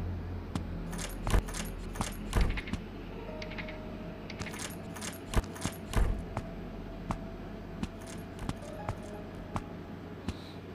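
Keys jangle and clink in a horror video game, with several sharp metallic bursts scattered across the stretch and softer rattles between them. The sound is close and distinct over a low ambient drone.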